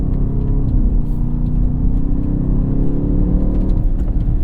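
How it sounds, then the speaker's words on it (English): A 2023 BMW XM hybrid launches from a standstill on asphalt, its engine droning loud and steady as it accelerates, a continuous low roar heard from inside with no talk. "Let's demonstrate a little launch."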